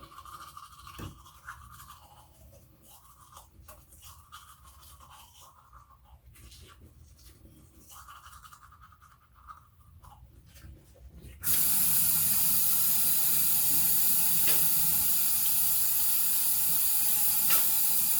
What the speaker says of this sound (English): brushing your teeth is one of the things that feels so good